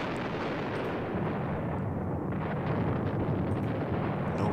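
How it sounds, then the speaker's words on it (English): Artillery fire aimed at a mortar team in the wartime strategy game Panzer Battles, a dense, continuous rumbling roar of booming blasts that swells slightly toward the end, with no talk. "Let's fire at this mortar team here."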